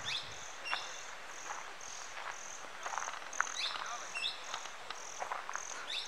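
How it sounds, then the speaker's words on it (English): Forest near a stream on the Karnataka–Kerala border in Coorg, with insects chirping in a steady pulsing rhythm and scattered bird calls over a soft, continuous wash of background ambience. "Bird sounds, water stream, nature"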